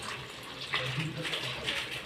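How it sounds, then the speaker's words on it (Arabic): Hot water pours into a cooking pot with tomato paste in it, a steady splashing gush close by that swells for a moment and keeps running for the whole couple of seconds. "هنحط بقى الميه سخنه اهو"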